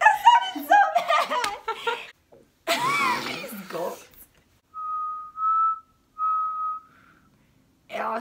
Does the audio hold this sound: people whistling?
yes